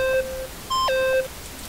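Electronic video game beeps: a long steady tone, a pause, then a second longer tone with a pitch drop partway, clear and close with no talking.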